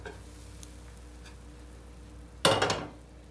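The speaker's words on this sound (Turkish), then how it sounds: "Tamamen tabak yardımıyla ters çevirip" A Spanish omelette, tortilla de patatas, is flipped over onto a plate: after quiet faint ticking, a single sharp clatter of dish and pan rings out and fades over a second.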